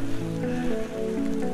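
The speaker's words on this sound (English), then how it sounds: "Oh, that's like hail." Light, small hailstones fall during a snowy camping trip, making a dense, steady patter close by, with a low hum underneath throughout.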